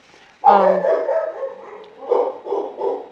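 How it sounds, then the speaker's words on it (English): A dog barks and yips a few times nearby, short bursts rising and falling, mixed with some voice-like sound in the background. "sorry for the barking."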